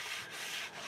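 A block of grip gum, an abrasive cleaner, scrubs across a handcrafted skateboard deck's grip tape in two quick, close rasping strokes.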